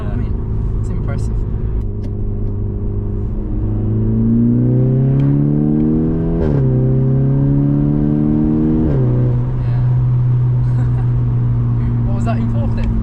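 A remapped Seat Ibiza Cupra with a 1.4 engine accelerates hard, its loud droning note climbing in pitch through fourth, dropping sharply at the shift and settling into fifth, with brief talk from people in the cabin.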